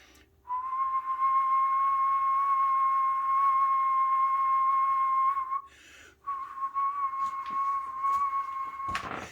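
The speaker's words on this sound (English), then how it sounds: "Let me see if I can get my whistle working." A wooden flute holds a steady, pure whistle tone for about five seconds, breaks briefly, then resumes at a similar pitch, ending with a sharp click.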